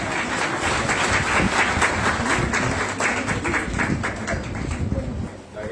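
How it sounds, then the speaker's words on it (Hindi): Sustained applause from a crowd at an inauguration ceremony for an Azadi Ka Amrit Mahotsav event in Delhi: a dense, steady wash of many hands clapping at an even level for several seconds before easing off slightly at the end. "इसके लिए जोरदार तालियां"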